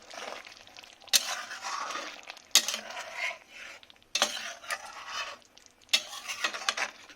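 Egg rezala is stirred after rose water and kewra water go in, a spoon scraping the pot in repeated sweeps with sharp clinks every second or so over a soft simmer, close and without talk.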